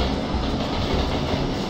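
A train rushes past in the Suicide Squad video game, giving a steady, dense rumbling roar with rail clatter throughout the short stretch, loud and close with no pause.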